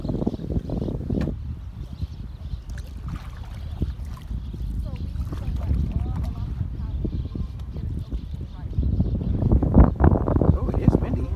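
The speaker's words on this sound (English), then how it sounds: "Oh, it is windy." Wind buffets the microphone during a float down the Feather River below Oroville Dam, a continuous low rumble that swells louder near the end, with faint voices underneath.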